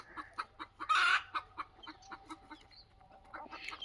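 A desi hen on a free-range poultry farm clucks loudly and repeatedly before laying eggs, a close, rhythmic series of sharp clucks with one louder squawk near the start.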